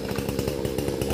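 A chainsaw running steadily while cutting branches from a large tree in stormy, rainy weather in Vietnam's Mekong Delta, a loud close buzzing drone with a rapid pulsing rhythm and no talk.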